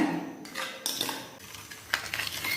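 A face paste is mixed in a bowl over a double boiler, the spoon scraping and clinking against the metal in irregular close strokes, with a few sharper taps standing out.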